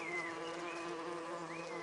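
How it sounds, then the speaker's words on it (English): Bee buzzing sound effect, a continuous close, droning hum with slight wavering pitch glides, steady and alone throughout. "And the only reason for making a buzzing noise that I know of is because you're a bee."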